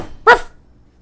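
A person imitates a dog's bark with a single loud, close, sharp bark-like yelp, standing alone and followed by quiet.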